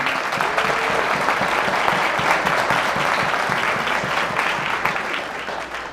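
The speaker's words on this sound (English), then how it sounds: "you can give yourself a round of applause, absolutely." Sustained applause from a large audience at a live Torah-learning gathering, thick and even clapping that holds steady throughout and begins to taper slightly at the end.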